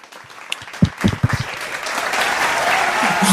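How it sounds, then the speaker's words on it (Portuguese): Applause for gymnast Camélia Voinea, a few scattered claps at first building into a full, loud wash of clapping that grows toward the end. "Uma salva de palmas para a Camélia Voineia"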